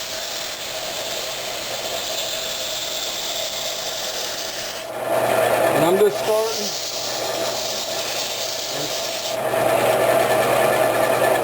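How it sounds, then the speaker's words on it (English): Sandpaper rubs against a spinning walnut workpiece on a slowed wood lathe, a steady close rasping over the machine's hum, with brief talk near the middle. "We're just going to start our sanding here."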